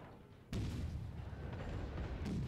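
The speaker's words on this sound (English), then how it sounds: "we're going to start firing on this zombie battleship" Battleship guns in World of Warships fire with a sudden deep booming blast after a quiet half-second, then a sustained rolling rumble and a second muffled report near the end.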